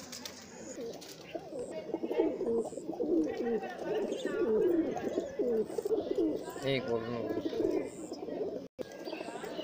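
Pigeons coo at close range around a Sialkoti pigeon loft, their soft repeated calls running steadily beneath someone talking almost continuously throughout.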